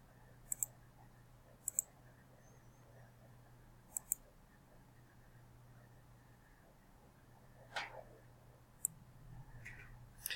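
A computer mouse clicks a handful of times, sharp isolated taps spaced seconds apart over a quiet low hum, with a brief rustle near the end.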